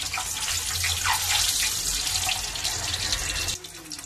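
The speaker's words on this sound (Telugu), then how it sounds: "ఆయిల్ బాగా వేడెక్కిందండి. గుడ్లు వేస్తున్నాం." Eggs drop into well-heated oil in a pan for a tomato, raw banana and egg curry. A close, steady crackling sizzle fills the moment, easing slightly near the end.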